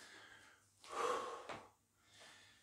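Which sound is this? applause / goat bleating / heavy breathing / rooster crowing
heavy breathing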